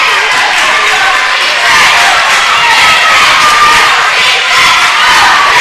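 Steady roar of a crowd cheering and shouting in a gym at a girls basketball game between Richland and E.O. Coffman, loud and continuous throughout.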